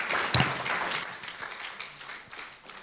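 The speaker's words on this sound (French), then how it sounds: "Merci de l'applaudir." Audience applause at a French conference session on the social contract, a moderate spread of clapping from a seated crowd that swells briefly and then tapers off.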